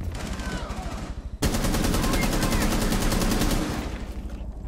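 Gunfire in Rainbow Six Siege, a few separate shots and then a long rapid automatic burst rattling loud and close for about three seconds before it fades.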